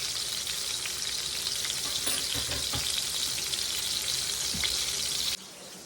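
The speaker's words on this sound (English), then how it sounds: "while my pork chops are over there cooking" Pork chops fry in a skillet with a loud, dense, continuous sizzle close by that cuts off abruptly near the end.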